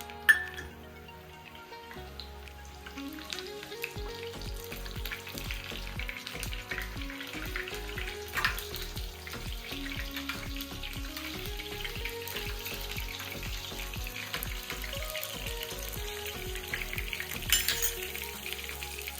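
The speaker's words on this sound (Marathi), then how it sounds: "तापलं तेल. आधी आता हिरवी मिरची टाकायची." Mustard seeds, cumin and green chili sizzle in hot oil for a homemade dhokla tempering, a steady close frying hiss with crackle and occasional sharper pops, running the whole time under a rhythmic background beat.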